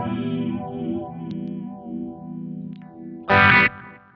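An electric guitar played through a pedalboard with a phaser effect stacked on top, sustained chords sweeping and swirling in and out, ending in a sudden loud, bright strummed burst.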